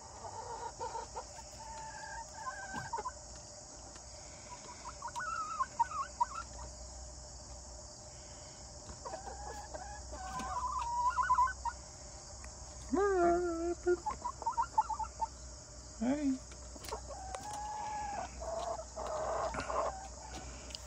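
Backyard chickens clucking in and around a coop, scattered short calls and low clucks in irregular bursts at moderate distance, over a steady insect-like hum and faint outdoor background.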